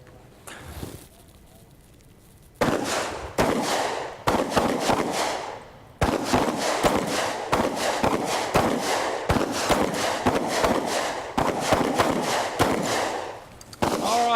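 Pistols fire on an outdoor shooting range: a long string of sharp, loud, close reports from several shooters, coming in a rapid uneven rhythm after a short quiet start.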